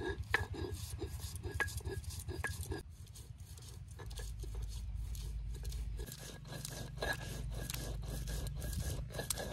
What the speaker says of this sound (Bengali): সবগুলো মশলা আমি একসাথে বেটে নিব